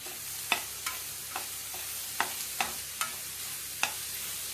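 Onion pieces fry in a pan for an egg curry, a soft continuous sizzle punctuated by regular light scrapes and taps of a spatula stirring, close up with no talking.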